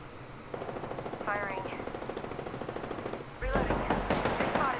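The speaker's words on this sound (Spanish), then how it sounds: "Nos disparan del otro lado." Enemy gunfire in the battle game Apex Legends crackles through the clip, with rapid bursts under players talking, then a louder burst of shots near the end.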